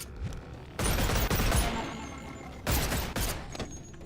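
Gunfire in the Boneworks VR shooter comes in two dense bursts of rapid shots, loud and close, separated by a quieter stretch with a few scattered clicks.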